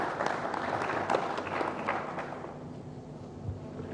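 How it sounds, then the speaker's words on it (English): Crowd applause at a national cyber security awareness event, a broad steady roar of many hands clapping that fades somewhat toward the end, with no talk over it. "A round of applause for him."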